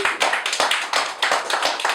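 Audience applause at a Clarke House speaker event: steady, close clapping from a group of people with slightly pulsing intensity, no speech over it.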